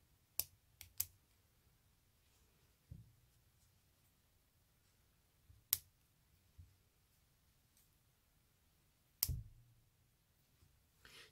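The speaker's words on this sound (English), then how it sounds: "Going to go ahead and cut a few more loops." Scissors snipping through loops of crochet yarn, a few quiet, sharp clicks spaced apart in a near-silent room.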